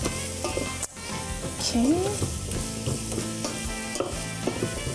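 Tofu, onions, carrot and garlic seasoned with smoked paprika sizzle steadily as they are stirred in a hot pan, with scraping utensil sounds and a brief spoken word over the continuous frying.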